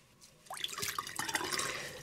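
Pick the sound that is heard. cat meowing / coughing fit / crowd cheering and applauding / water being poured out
water being poured out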